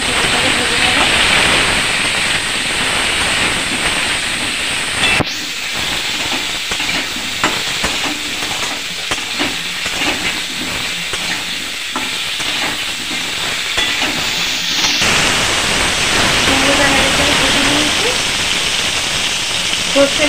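Pumpkin pieces fry in a pan with salt and turmeric for a Bengali kumror tok, a steady loud hiss and sizzle throughout, with brief stirring disturbances and a voice talking over it.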